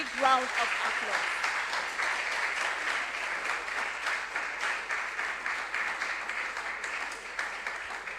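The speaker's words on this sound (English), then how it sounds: "Please, let's give them a very big round of applause." Audience applause for contestants at a regional junior science and maths quiz in the Ashanti Region, steady fairly faint clapping from a crowd throughout, sounding somewhat distant.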